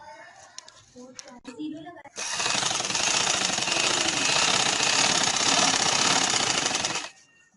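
Someone speaks briefly before an electric sewing machine stitches shirt fabric, giving a steady, rapid, close buzzing run of about five seconds that then stops.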